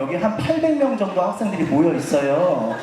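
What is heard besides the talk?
None of the usual background noises is heard.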